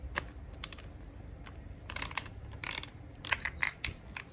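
A ratchet wrench clicks in short quick bursts while backing out bolts around the meter of a Honda Monkey 125 motorcycle, crisp close ratcheting with brief pauses between strokes.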